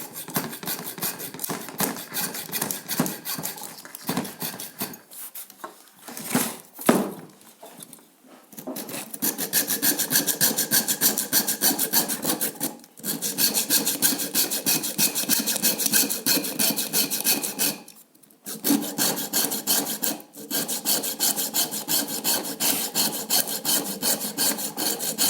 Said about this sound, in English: We will use the hacksaw blade to cut this.